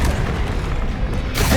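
A Confringo fire spell from Hogwarts Legacy bursts in a loud, dense explosion that rumbles on with heavy low-end roar, then swells again with a brighter blast near the end.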